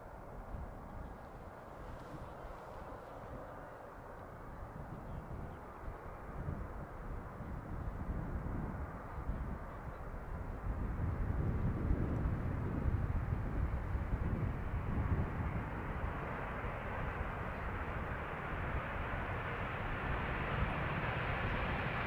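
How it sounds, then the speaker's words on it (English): A Boeing 767-300 airliner at Amsterdam Schiphol Airport gives a distant, rumbling jet roar that slowly builds and stays steady, heard alone against wind and open-air background. "Looks like the 767-300."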